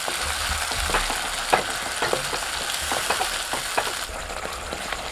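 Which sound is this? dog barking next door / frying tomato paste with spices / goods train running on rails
frying tomato paste with spices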